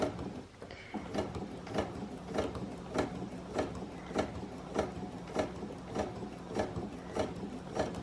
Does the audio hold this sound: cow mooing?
no